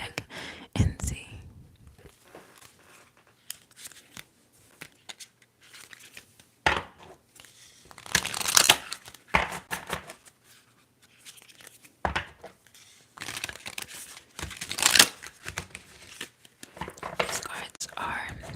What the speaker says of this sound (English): Let's hear some shuffles from this, like, extremely new deck and see.